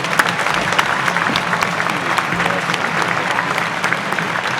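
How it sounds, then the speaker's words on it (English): A crowd at an evening gathering claps in a big round of applause, dense and loud, sustained evenly from start to finish with no pauses. "Everybody give King a big round of applause for putting this together."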